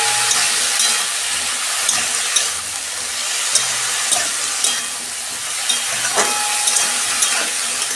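Spinach with a little turmeric stir-frying in a pan, a steady loud sizzle with a hissing edge, broken by regular scrapes and clicks of a spatula turning the greens, no voices.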